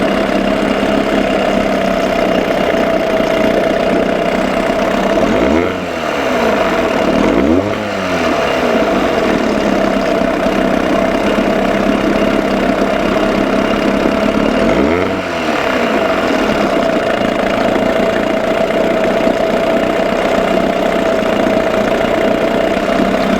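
A 6 hp Johnson outboard motor runs steadily at idle, loud and close, with a faint repetitive ticking and a few brief dips where the engine note wavers and slides.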